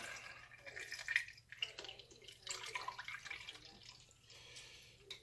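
Dissolved Kool-Aid mix pours from a container back into a jar of pickles, a close splashing trickle with intermittent drips and gurgles that swells and fades over several seconds, no talking.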